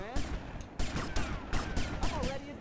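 Gunfire from GTA Vice City rattles in several quick bursts with short gaps between them, loud and close, with faint speech underneath.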